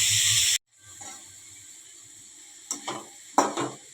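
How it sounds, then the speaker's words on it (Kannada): Egg bhurji ingredients frying in a pan: a loud steady sizzle that cuts off abruptly, then a quieter hiss with a few sharp stirring scrapes near the end, close up. "ಸರಿಯಾಗಿ ಕಲರ್ ಚೇಂಜ್ ಆಗೋ ಹುರಿಬೇಕು."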